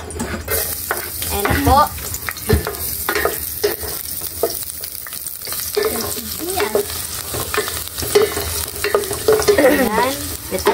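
Garlic sizzles and spatters in hot oil in a pan, with steady frying hiss and intermittent stirring scrapes and clatters throughout, while someone speaks briefly over the cooking.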